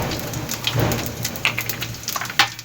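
Cumin seeds sizzling in hot oil for a chicken and vegetable pulao, a steady close crackle of spattering pops with no voices.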